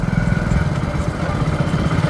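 A motorcycle engine runs continuously at close range while riding an empty road at night, a loud, steady chugging drone with a rapid pulsing beat and no pauses.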